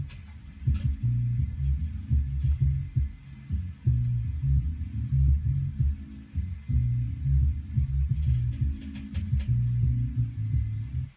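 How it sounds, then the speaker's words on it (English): A looped jazz sample is low-pass filtered so that only the low end remains, leaving a muffled, thumping bass groove that repeats steadily and fairly loudly with almost no highs, and no one speaks. "I have the loop here with a filter on it, and only the low end, no high end."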